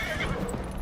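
A horse whinnies in the Dragon Age Inquisition video game, a short neigh with faint hoof clip-clop beneath, heard moderately close against a steady background.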